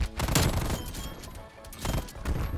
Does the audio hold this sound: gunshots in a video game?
yes